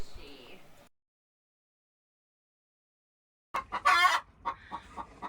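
Chickens in a coop cluck in short bursts after a stretch of silence, with a brief louder squawk among them, close by.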